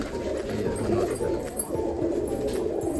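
Domestic pigeons let out of the loft coo softly and flutter nearby, a low murmuring burble running steadily throughout.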